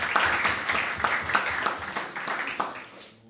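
An audience at an anniversary celebration event claps in a brief burst of applause, dense and fairly close, fading out toward the end.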